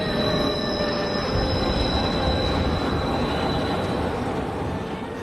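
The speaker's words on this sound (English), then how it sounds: "We got a train going down the center of our street, elevated train." An elevated train running down the center of a city street roars past, its wheels screeching with high steady squeals over a dense, loud rumble that holds for the whole stretch.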